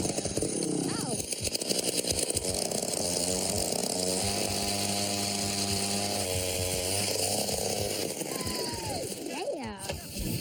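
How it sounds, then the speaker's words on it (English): A gas-powered ice auger drills through thick ice at a remote Alaskan fishing spot. Its engine roars loud and close, rising and falling in pitch as the bit bites. People talk and exclaim over the noise. "so we brought an auger with us"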